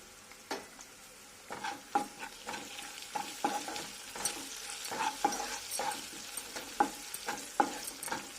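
Chicken with turmeric and salt is stirred in a pan, a spoon scraping and clinking in an uneven rhythm over a soft, low sizzle.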